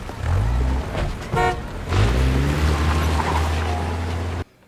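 A vehicle horn toots briefly amid a steady low engine rumble and street noise, with another short honk a moment later.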